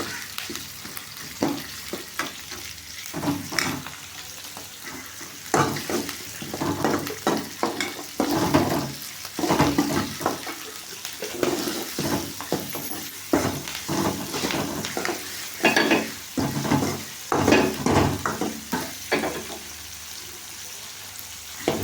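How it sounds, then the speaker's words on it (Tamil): Chopped onions sautéing in a pan for a drumstick leaf stir-fry, giving a steady sizzle broken by repeated scraping and stirring strokes, close and moderately loud, with no talking. "வெங்காயம் நல்லா அரிஞ்சு வச்சுருக்கோம். அதையும் போட்டு ஒரு வதக்குறோம்."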